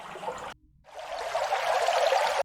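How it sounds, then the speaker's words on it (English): Running water pouring steadily, a bright splashing rush that cuts out briefly after a moment, then resumes and swells to a loud, continuous stream before stopping abruptly, no voices. "Maybe running water?"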